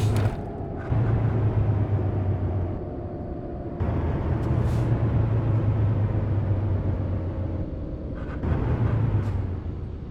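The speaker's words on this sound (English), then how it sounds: "we could drive my brand new Peterbilt 579" A Peterbilt 579 truck in American Truck Simulator gives a steady, loud low engine drone that drops and surges again with each gear change, alone without talk.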